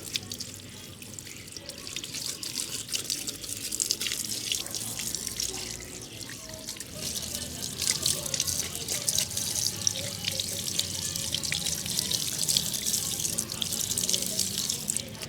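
Running tap water rinses an item just treated with paint remover, a continuous close splashing stream into a sink with dripping, steady throughout and without speech.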